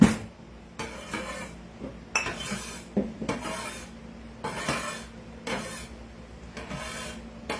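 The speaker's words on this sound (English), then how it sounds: "Now, scrape her out of here." Dried basil scraped out of a dehydrator tray, giving a series of dry rasping, scratching strokes with light plastic clatter, close and fairly quiet, each stroke separated by brief pauses.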